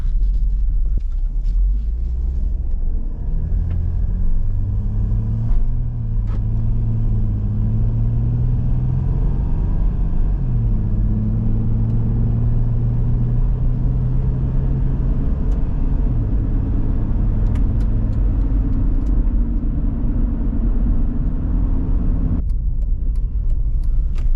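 A diesel Jeep engine runs continuously at close range, a loud low rumble with shifting tonal drones as the idle rises and falls, under a faint rattle, alone without talk.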